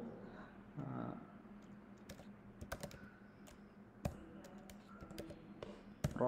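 Typing on a computer keyboard during a coding session: quick, irregular clusters of sharp key clicks, close and fairly loud, with brief pauses between bursts and no talking.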